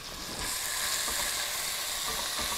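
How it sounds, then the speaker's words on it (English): Loud, steady sizzling of pork belly frying in hot oil, a continuous crackling hiss that jumps up sharply just after the start and holds. "That sizzles straight away."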